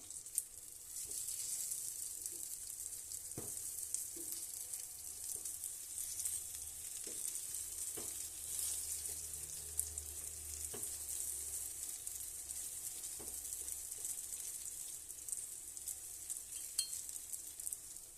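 Brinjal slices fry on a tawa over a low flame, giving a steady, even sizzle that runs unbroken throughout, with a few soft clinks of a utensil against the pan.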